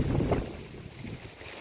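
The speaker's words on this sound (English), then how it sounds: "It's kind of stopped raining because it's so windy." Gusty wind roars across the microphone in a garden food forest after rain, loud at first and then easing into a steady, lower rush with no voices.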